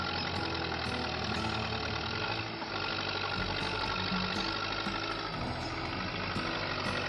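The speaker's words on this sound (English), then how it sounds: "He pits a Nissan Patrol against a T40, tying a cable between them and pulling in opposite directions." Nissan Patrol and a T40 tractor in a cable tug of war, both engines straining at their limits: a dense, loud, continuous rattling diesel roar with knocking pulses, without talk.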